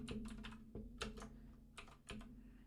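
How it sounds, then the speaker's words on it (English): Keys clatter on a computer keyboard as a name is typed in, quick uneven bursts of soft close taps over a faint steady hum. "let's type in his name"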